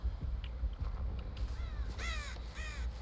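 In the video game Dead by Daylight, a few harsh crow caws ring out one after another over a low rumbling ambient bed, with no voices.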